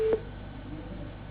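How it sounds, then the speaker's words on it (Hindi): A single short telephone tone sounds as a call is disconnected during a Hindi news discussion, followed by a faint steady line hiss. "परमार जी से सवाल किया गया तो उन्होंने फोन ही डिस्कनेक्ट कर दिया है"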